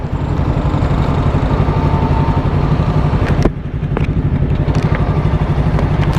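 A 300cc FKM 3GP sports motorcycle runs loud and close, its engine drone steady and even, with a short dip in the middle before it picks back up.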